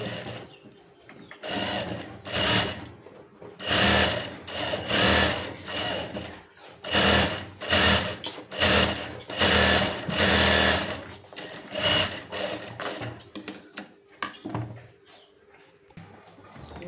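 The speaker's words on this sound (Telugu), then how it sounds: "ఇప్పుడు మళ్ళీ రెండో కుట్టు వేసుకొద్దాం" A sewing machine runs in repeated bursts of rapid stitching along a blouse lining seam, loud and close, with short pauses between runs and no talking.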